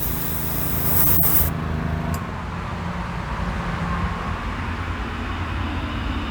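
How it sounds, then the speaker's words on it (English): An aerosol spray can lays down a light tack coat of paint on a 1974 Hot Wheels Flying Colors Heavy Chevy Camaro, a brief close hiss over steady background rumble, then quieter room noise. "There's a nice light tack coat."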